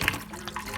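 Water runs briefly from a kitchen sink tap over pumpkin seeds, a soft, steady splashing stream heard alone and fairly quiet.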